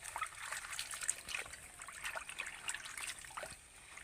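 Pea pods washed by hand in water, faint close trickling and splashing with small sloshes as hands move through the pods, quiet and with no talking.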